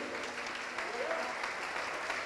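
A church congregation claps together in a steady, dense wash of applause that carries on throughout, with a voice faintly under it.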